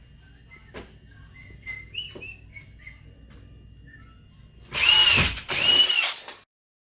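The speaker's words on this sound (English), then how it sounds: "So I went ahead and pre-drilled 4 holes so I can mount it up here." A power drill pre-drilling holes in the feet of an artificial Christmas tree: two short, loud whirring bursts near the end, preceded by quieter handling noises and faint chirps.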